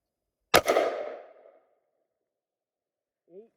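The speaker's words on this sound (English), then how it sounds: "I think I got one shot left." A single .45 Colt revolver shot fired outdoors in snow during a velocity test, one sharp crack with a short fading echo, then silence and a faint brief voice.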